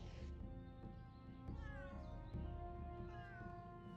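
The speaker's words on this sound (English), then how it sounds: "Who is meowing at me?" In World of Warcraft, a cat meows several times in a row, drawn-out whining calls rising and falling over a low game music bed, faint and somewhat distant.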